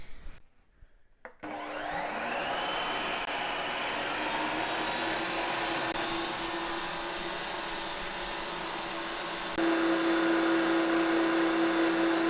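An ice cream machine on its sorbet setting churns tomato sorbet, kicking on after a brief quiet with a loud, steady motor whir and hum that holds constant, then rises in pitch and volume near the end.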